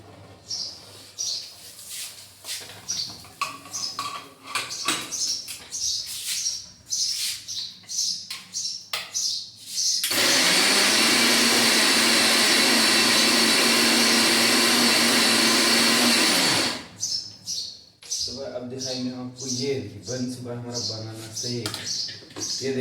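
A mixer grinder whirs loudly and steadily for several seconds while blending a banana shake, surrounded by talking before and after the run.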